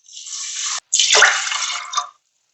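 Water pours steadily into a cooking pot holding arborio rice, a close splashing rush that pauses briefly, then resumes before stopping.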